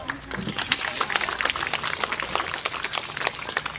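Students at a school Independence Day celebration applauding a girl receiving a third-place prize, brisk scattered clapping from a crowd with some background voices.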